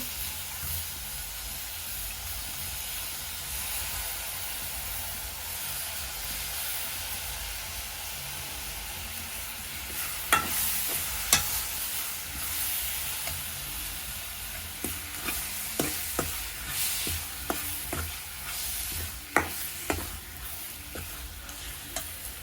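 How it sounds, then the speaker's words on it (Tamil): Prawns for a Kilinochchi-style Sri Lankan prawn curry fry in a pan with a steady close sizzle, joined midway by repeated sharp scrapes and knocks of stirring. "இப்போ நம்ம இறாலை போட போகிறோம்."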